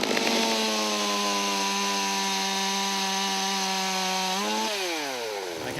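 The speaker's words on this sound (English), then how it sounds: "where Astro immediately puts his new chainsaw skills to the test." A chainsaw cuts into a damaged tree, its engine holding a steady high whine for several seconds before dropping in pitch as the cut finishes, loud and close with no voices.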